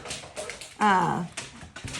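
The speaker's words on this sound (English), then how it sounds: "that's a dog" A single high, drawn-out canine whine, rising then falling, close by and brief, amid soft talking and movement.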